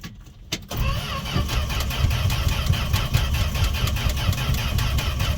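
A Dodge D100 truck cranking on a cold start after sitting seven months without starting; after a brief quiet moment, the starter churns steadily and rhythmically for several seconds, loud and close.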